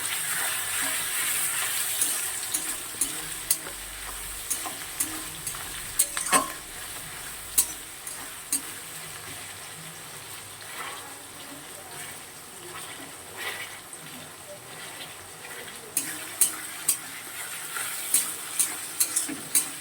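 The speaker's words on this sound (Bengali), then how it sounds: "পেঁয়াজটা আরও একটু ভাজা ভাজা হবে লাল লাল করে।" Chopped onions frying in a pan give a continuous nearby sizzle, broken by repeated scrapes and clinks of a spatula being stirred against the metal, louder bursts coming in clusters.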